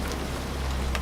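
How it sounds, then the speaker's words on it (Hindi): Steady rain pours down in a horror cartoon, a dense, continuous hiss of drops close by with no voices. "फिर बरसात का मौसम शुरू हो गया"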